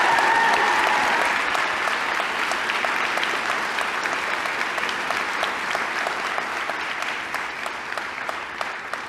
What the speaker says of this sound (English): Please give these young men and women a round of applause.